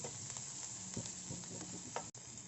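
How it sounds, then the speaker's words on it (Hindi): Onions frying in melted butter give a steady, close sizzle with soft scraping stirs, cutting off abruptly near the end, no voices. "अब इसमें प्याज डालेंगे, थोड़ा सा इसको भून लेंगे"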